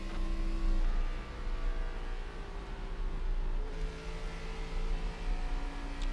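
ARCA stock car engine droning steadily at Homestead Miami in the iRacing sim, a loud continuous roar with shifting pitch as the car holds a line off the wall, no voices.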